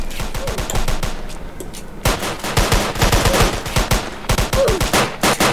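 Rapid gunfire from the Roblox game Framed, with loud, close bursts of repeated shots rattling in dense volleys that pause briefly and then resume with heavier fire.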